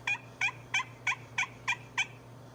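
Seven evenly spaced yelps from a slate turkey call, clear and fairly high, mimicking a young hen over a low steady hum.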